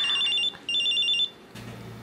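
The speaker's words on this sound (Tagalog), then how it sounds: "Cellphone ko." A cellphone rings with two short bursts of bright, rapidly trilling electronic tone, near and clear, cut off before a low background hum takes over.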